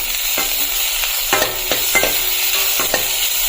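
Fish stir-fried with crushed ginger and garlic in a pan, a steady sizzle broken by several sharp scraping strokes of a spatula against the metal, close and alone with no voices.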